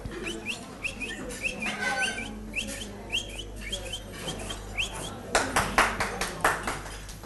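A bird chirping recording plays for a class: a string of quick, bright tweets repeats steadily at moderate volume, with a burst of sharper clap-like clicks toward the end.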